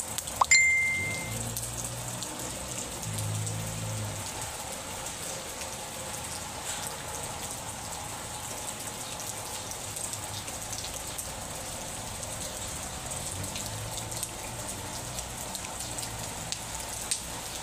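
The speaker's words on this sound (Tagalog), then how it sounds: "Ulan." Continuous heavy rain falls steadily, a dense hiss of drops on surfaces, with a brief faint ding near the start.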